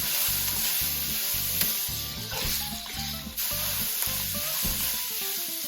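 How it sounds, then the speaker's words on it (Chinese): Garlic and onions stir-fry in rendered beef fat with a continuous loud sizzle and occasional stirring scrapes, heard under prominent background music throughout. "加入大蒜，炒出香味儿，然后加入洋葱，继续的翻炒"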